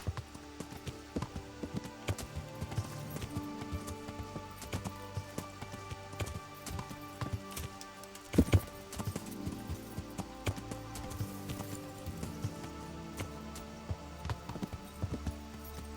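Rhythmic hoof clip-clops of a horse at a steady walk in the video game Kingdom Come: Deliverance, with game background sounds and no talking.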